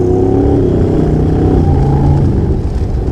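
A Honda NC750X motorcycle pulls hard on a race track, its engine note climbing and then dropping as it shifts up a gear, loud and close with steady wind-blown roar.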